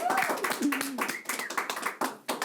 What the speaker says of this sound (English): You can keep clapping through the whole thing.